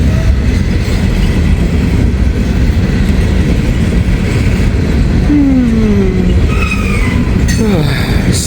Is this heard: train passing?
yes